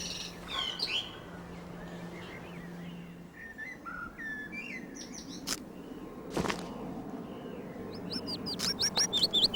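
A flightless mistle thrush chick hidden in an elder bush near the reservoirs gives thin, high chirping calls in scattered bursts, with a quick run of notes near the end, over a low background murmur.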